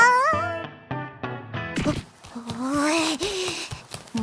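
A small cat in the video game Trickcal Revive gives a quick series of short, high meows, then a longer wavering mewl over game music and cartoonish voice sounds.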